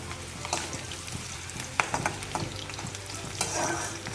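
Cashews are stirred in a hot pan while making rava pongal, giving a steady sizzle broken by scraping strokes of the spoon, close and fairly loud.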